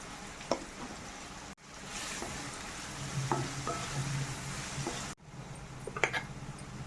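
Ground masala and onions fry for a country chicken curry, with a steady low sizzle and occasional stirring clatter throughout, and no voices.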